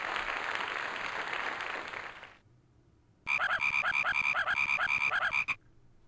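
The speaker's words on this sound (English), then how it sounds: "it wasn't just a cut-off clip of a frog, it was the whole sound." A frog croak sound effect from the video game Freddi Fish plays as a rapid, close, loud series of rhythmic croaks lasting about two seconds, preceded by a burst of broad hissing noise and a moment of quiet.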